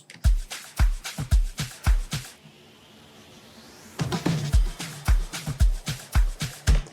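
Amapiano beat built in FL Studio with punchy log-drum-style kicks and percussion, a brief drum fill breakdown with a rising sweep midway before the groove returns, loud and without voices.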